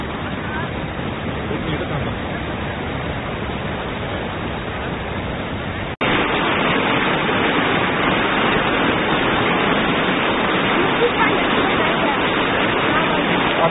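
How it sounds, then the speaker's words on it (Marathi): Heavy floodwater rushes steadily during torrential monsoon rain in Maharashtra, a dense, continuous broadband roar that jumps noticeably louder midway and stays loud to the end. "आता लय पाणी आलं, आता लय पूर आला."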